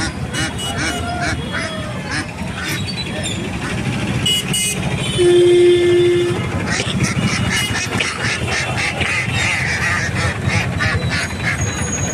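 Ducks quack repeatedly amid busy outdoor country-chicken market noise in Eluru, with murmuring voices, passing traffic and an occasional horn toot.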